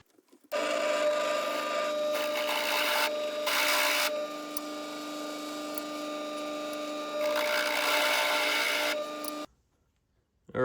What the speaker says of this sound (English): we have a 3/8 drill bit. Let's go ahead and get these 2 holes recessed